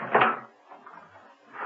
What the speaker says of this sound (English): Steed closed the door.